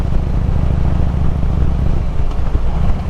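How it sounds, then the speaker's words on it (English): A shovelhead motorcycle engine with no mufflers idles close by, a loud, loping, uneven rumble that sounds near stalling, steady for the whole stretch with no voices. "a shovel head with no mufflers sounds like it's almost ready to die, almost gonna just stall."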